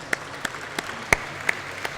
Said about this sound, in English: A round of applause for putting together the anniversary celebrations.